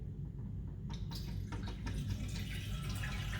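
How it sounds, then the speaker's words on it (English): Water from a leaking toilet cistern dripping into the pan, a few faint, irregular drips and trickles over a quiet low hum in a bathroom. "you can hear the water dripping into the pan"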